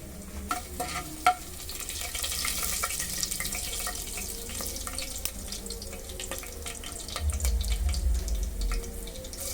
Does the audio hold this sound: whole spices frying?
yes